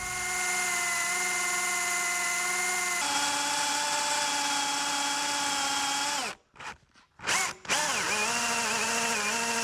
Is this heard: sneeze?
no